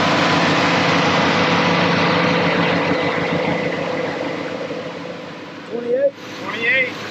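A Ford F-150 engine idles steadily after being cranked up, a continuous close low rumble with a faint whine; near the end it dips and a few brief higher tones break through.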